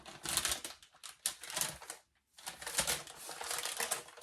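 Crinkly plastic packaging from a quilt shop parcel being torn open and handled, a dense run of sharp crackling rustles that stops for a brief pause and then resumes, close and fairly loud.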